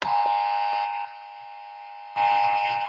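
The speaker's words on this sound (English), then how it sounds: "That buzzer we saw at the store." A buzzer button gives a loud, harsh electronic buzz lasting about a second. A fainter steady tone follows, then the buzz comes back at full strength, close to the microphone and with no talk over it.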